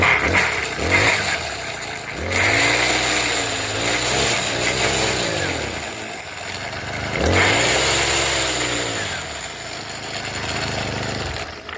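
A small lawn equipment engine, pull-started, runs steadily and loudly close by, its droning note rising and falling twice as the revs surge and settle, with no talking.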